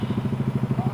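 A motorcycle fitted with an open pipe exhaust revs at close range, throwing out a fast, steady burble of rough pulsing bursts on its own with no voices.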